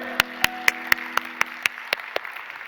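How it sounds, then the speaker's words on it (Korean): A church congregation gives a short burst of sharp, evenly spaced claps during a worship service, close and fairly loud, with faint sustained tones underneath. "믿으시면 박수 영광 돌립시다"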